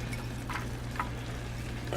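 Onion going into a frying pan for a Mexican pie, giving a steady low sizzle and frying hiss throughout with a couple of faint stirring clicks, moderately close and without talk.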